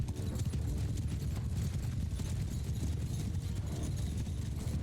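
Cavalry horses in the Mount & Blade II: Bannerlord video game gallop in a loud, continuous drumming of many hooves, a dense rumbling clatter with battle noise and no clear speech.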